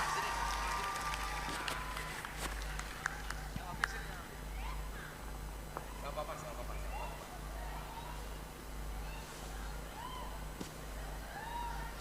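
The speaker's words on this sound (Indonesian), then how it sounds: "Berikan tepuk tangan yang sangat meriah untuk Gus Kausar." Applause from an audience gathered for a religious sermon at an Islamic boarding school fills the whole stretch as a steady, dense wash of clapping and crowd noise, with voices murmuring throughout.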